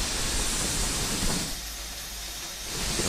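A steam locomotive's safety valve hisses steadily in Train Simulator Classic, a Terrier on the Isle of Wight Steam Railway, loud and continuous broadband hiss that eases slightly midway then swells again, with no talking.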